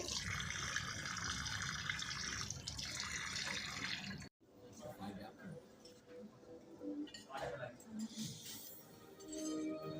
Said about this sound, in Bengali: এখন ভালো করে ধোবো ধুয়ে নেবো